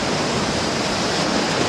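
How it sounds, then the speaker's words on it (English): Ocean waves breaking at the shore during a cloudy landscape photography outing, a steady, dense roar of surf with no talk. "Waves are breaking quite well."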